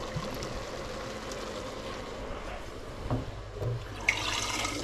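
Water running from a kitchen tap while something is rinsed, a steady close stream with brief splashes and a slight change in flow near the end.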